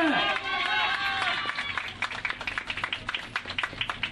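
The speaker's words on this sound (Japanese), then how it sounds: "大きな拍手。" Audience applause at the close of a Yosakoi dance festival at the Hofu festival, clapping breaking out and pattering unevenly over a fading voice and crowd noise.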